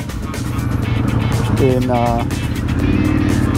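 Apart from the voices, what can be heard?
Harley-Davidson Pan America motorcycle engine riding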